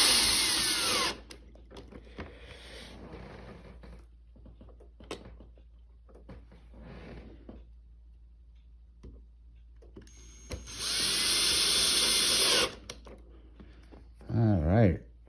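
Power drill unscrewing an ECOVACS DEEBOT N79 robot vacuum, two sustained whirring bursts at the start and again near the end, separated by quieter handling clicks and speech, with a brief final rattle.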